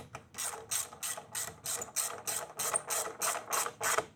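A ratchet with a T45 Torx bit tightens an exhaust bolt on a Kawasaki Ninja 500 while an Akrapovic exhaust is fitted, giving a steady run of about a dozen crisp, close clicking bursts with no talk.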